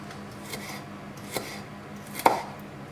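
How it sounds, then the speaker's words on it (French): Knife cutting thin ginger slices into sticks on a board, a few soft scattered chops ending in a sharper, louder cut, quiet and close. "Les fines tranches, on va les couper en bâtonnets."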